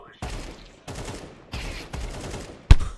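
Bursts of rapid gunfire from a Counter-Strike 2 training map, four separate volleys with short gaps between them and a sharp final shot, loud and close with no voices over them.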